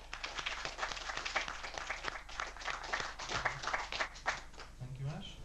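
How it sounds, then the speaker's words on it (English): Audience applause for an evening speaker at a skeptics' talk event, a dense steady patter of many hands clapping throughout, fairly distant in a hall with some chatter beneath. "a big round of applause to this evening's speaker, Mr. J.F. Derry."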